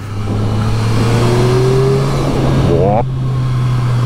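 Engine of a 2023 Triumph Street Triple 765 RS motorcycle revving, a loud steady drone that climbs in pitch, then drops and surges again near the end, with wind and road rush around it.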